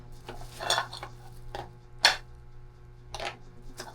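A camping cookware pot and lid are handled, giving a handful of light metallic clinks and taps spaced irregularly, close and fairly quiet over a steady low hum, with no talking.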